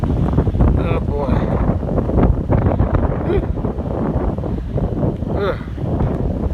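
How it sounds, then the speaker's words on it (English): Strong wind blowing across a microphone outdoors on a warm day, a loud, constant buffeting roar with gusty bursts, while someone talks faintly underneath. "The wind's so strong."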